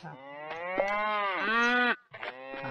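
Cows in the video game Survivalcraft 2 moo loudly and close, one long drawn-out call followed by the start of another after a brief pause, with no talk.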